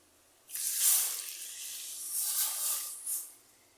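Milk is poured into a pot already holding dissolved sugar while making steamed bhapa doi: a close, steady splashing stream lasting about three seconds, swelling and easing off before stopping, with no talk.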